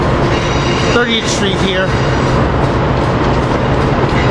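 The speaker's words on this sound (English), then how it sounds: "we got a regional leaving. We got engine AM7 934 leaving" Regional train hauled by AM7 locomotive 934 pulls away from a suburban station platform, a steady loud rumble of wheels and cars throughout, with someone talking briefly over it.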